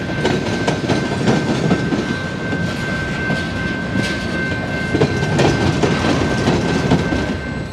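A Canadian National freight train races along a countryside mainline, its steady rumble and clickety-clack of wheels on the rails sustained and loud throughout, with a faint high tonal whine.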